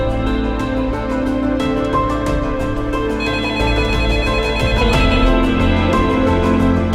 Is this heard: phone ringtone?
yes